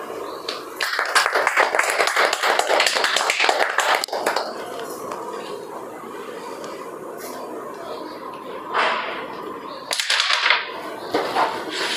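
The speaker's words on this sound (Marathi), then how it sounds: "टाळ्या वाजवा." Hands clap among a small group of elderly people at a gathering in an old age home, bursts of claps at the start and again near the end, with quieter background noise between.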